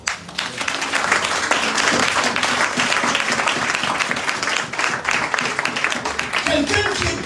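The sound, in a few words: congregation applauding in church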